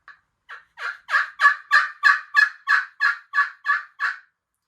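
A hunter imitates a turkey hen's yelp with a call, producing a series of about twelve evenly spaced, nasal yelps that rise in loudness and then taper, close and alone.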